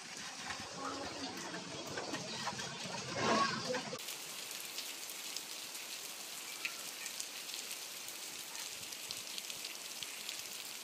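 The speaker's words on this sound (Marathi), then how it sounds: "बघा कसला जोरदार वारा पाऊस आलाय।" Steady heavy rain hisses and patters, loud and close, over a rushing wind-like roar that continues unbroken; a muffled stretch of noise comes first.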